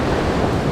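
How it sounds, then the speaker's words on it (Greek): Gentle sea waves wash onto the shore in Halkidiki, Greece, a steady low rush of surf with some wind noise on the microphone and no voices. "Λίγο κύμα. Πολύ λίγο κύμα."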